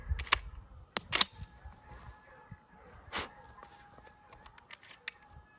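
A shotgun's action is cycled to feed a shell, heard as a few sharp metallic clacks near the start and then lighter clicks and handling noises.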